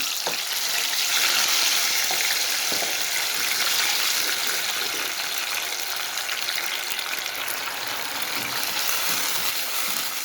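Jigar (liver) paste frying in hot oil in a kadhai, a steady loud sizzle that holds evenly throughout with faint stirring scrapes and no talk.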